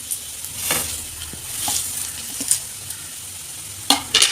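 Vermicelli and onion are stir-fried in a pan for carrot semiya, giving a steady soft sizzle under scattered scraping and stirring taps, close up, with a few sharper clacks near the end.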